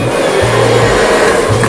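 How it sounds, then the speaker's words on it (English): A freestyle blow dryer drones loudly and steadily while drying hair, a close, constant whir with a low hum that pulses a little as the airflow shifts. "We got our good old freestyle blow dryer."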